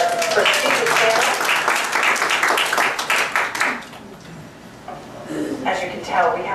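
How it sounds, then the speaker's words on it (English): Applause from an audience for a panel at a geriatric care expert event, with clapping and voices dense at first, then thinning out after a few seconds as someone starts speaking. "may we have an applause for our prestigious panel"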